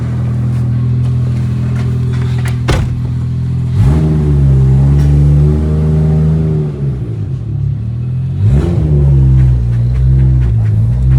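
A 1992 Toyota Mark II JZX90 with a twin-turbo 1JZ-GTE engine and a welded differential, driving and accelerating. Loud engine revs climb through the gears, with sharp dips at the shifts, and there is no talking.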